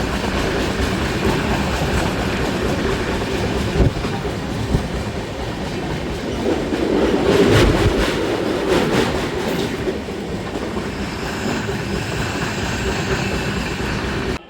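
Steady rumble and rhythmic clickety-clack of a moving passenger train on the run from Firozabad to Delhi near Ghaziabad, loud and continuous from inside the carriage, with wheel noise swelling briefly midway.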